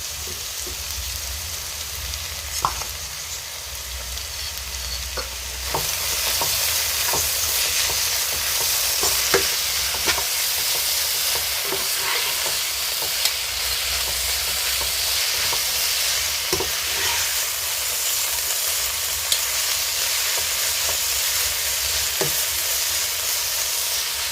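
Onions with garlic and ginger sizzle steadily in a hot pan for chicken curry, a dense crackling hiss broken by occasional sharp pops and spoon scrapes, with no talking.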